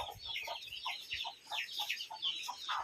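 A large mother hen clucks in quick, repeated low notes, close and steady, with soft rustling underneath.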